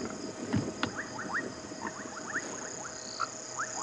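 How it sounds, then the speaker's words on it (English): Grey foam nest frogs call at dusk on a game reserve, a scattered chorus of short, repeated croaks and clicks at moderate distance over a steady insect hum, with no talk. "So as it gets darker, a few more frog species coming in."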